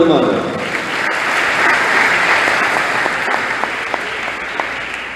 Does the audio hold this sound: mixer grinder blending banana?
no